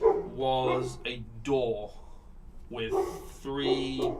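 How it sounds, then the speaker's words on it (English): Dog barking standing in for a hellhound in a tabletop game, several loud close barks and yelps in short bursts, mixed with people talking. "you can hear the hound start barking at something."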